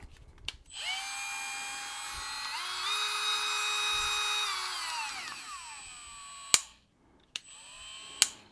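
An 8V Neu Master cordless rotary tool whirs up to a high-pitched whine, shifts speed partway through, then winds down, followed by a few sharp clicks from handling the tool.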